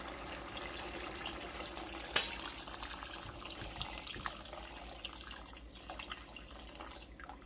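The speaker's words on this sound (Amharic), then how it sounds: "አሁን ደግሞ ውሃ ጨምርበታለሁ ማለት ነው።" Tap water runs steadily into a pot of chicken breast soup, a soft continuous pouring and splashing with one sharp clink partway through, fairly quiet and close.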